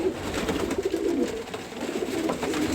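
Young flying pigeons on a rooftop coo steadily, a dense overlapping warble from several nearby birds that carries on throughout without any voices.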